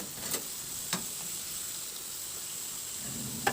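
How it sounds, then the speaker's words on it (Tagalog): Thin round potato slices frying in hot oil give a steady soft hiss and sizzle, with a few brief pops and crackles. "magpainit ako ng mantika at iprito ko na rin yung 2 pirasong patatas na hiniwa ko lang siya ng pabilog na manipis"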